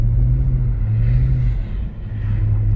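A rear-wheel-drive BMW E46 slides across an icy, frozen road, its engine droning steadily and close with a low, even rumble that holds for the whole moment.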